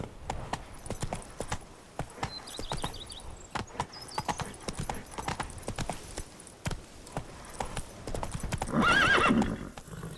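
Roach the horse gallops in The Witcher 3: Blood and Wine, with rhythmic, close hoofbeats clopping steadily and a whinny rising near the end.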